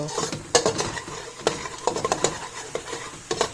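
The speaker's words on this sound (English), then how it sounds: "we have to make sure we saute as I'm doing. I don't want anything catching on the base" Brinjal (eggplant) patchadi being sautéed in a pan, with a spoon scraping and clinking against the metal in irregular bursts over a faint sizzle, close and fairly loud, with no talking.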